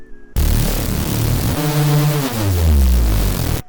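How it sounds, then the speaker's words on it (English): Heavy reese bass from a Serum synth runs through tube distortion with high drive, a thick, crunchy, noisy growl that sweeps and wobbles in pitch, loud and alone. "This distortion actually like distort the noise with the 2 signals here, so it gives like a very crunchy sound."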